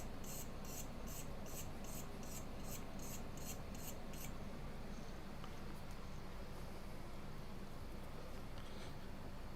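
A small metal awl tip is sharpened at a MacBook Air logic board repair bench: about ten quick, faint rasping strokes in a regular rhythm, then a low hiss with no further strokes.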